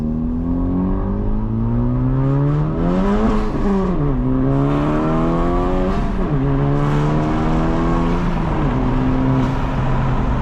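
A 2025 Honda Civic Type R FL5 fitted with a catless downpipe accelerates hard through the gears, its engine tone climbing loudly with several shift dips, heard close up from inside the car.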